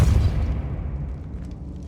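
A deep, booming burst from the Depulso force spell in Hogwarts Legacy, loud at the start and then rumbling and fading away, alone without voices.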